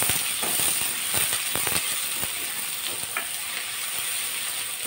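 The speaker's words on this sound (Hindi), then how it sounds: "तो सबसे पहले डालेंगे हम अपनी प्याज। इसको भी थोड़ा सा भून लेंगे" Chopped onions sizzle in a hot pan with a constant hissing fry, punctuated by clicks and scrapes of stirring.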